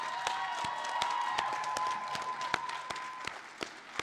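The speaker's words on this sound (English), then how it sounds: "Please join me in applauding all of your friends and family who have supported you through" Applause from a graduation commencement crowd, moderately distant and steady, with scattered louder individual claps and a faint sustained tone behind it.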